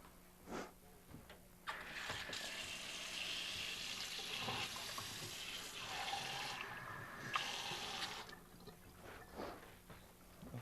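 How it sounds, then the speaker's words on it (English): Cold water pours into a bowl of cornstarch to make a slurry, a close, steady splashing stream lasting several seconds, starting abruptly and tapering off amid quiet kitchen sounds. "In this bowl here I have some cornstarch, and you just add some cold water to that"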